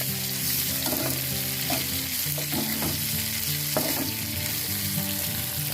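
Snakeskin gourami fish stir-frying with ginger in a pan makes a loud, continuous sizzle with scattered scraping and stirring clatter, and a steady hum runs underneath throughout.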